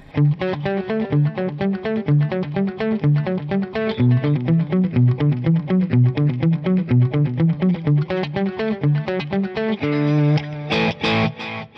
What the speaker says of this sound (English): let's bring in the delay sound